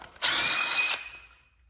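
A small impact gun whirs in one loud burst of under a second, removing bearing cap bolts on an old VW Bus transmission, then fades off.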